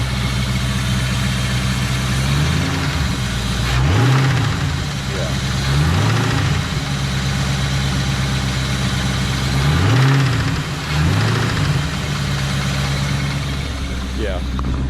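Cold car engine fitted with an X pipe and SLP resonators idles steadily, then is revved in several short blips, close and loud, with a person talking over it.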